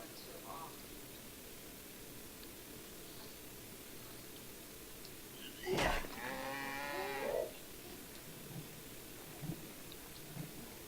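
Cows lowing in the medieval video game Life is Feudal, a single drawn-out moo rising over faint steady ambient noise, with quiet speech nearby.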